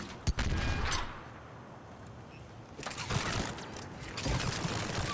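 A plasma shotgun fires repeatedly in the video game Mass Effect 3, sharp loud blasts at the start and in bursts later, set against dense combat noise.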